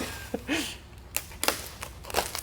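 Cutting open the packaging around a carbon fiber car part, a series of sharp scratchy rips and blade strokes in uneven bursts, close up, with brief handling noises between the cuts.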